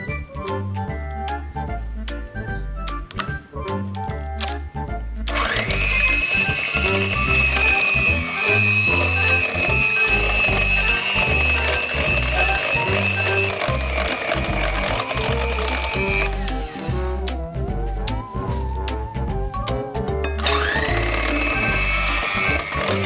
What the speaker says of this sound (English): put all of our wet ingredients into a big bowl and electric mix them until they're all combined